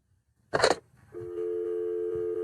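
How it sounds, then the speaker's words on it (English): A landline phone gives a brief handling clatter, then a steady, loud dial tone hums without a break until the end. "That sound is a dial tone."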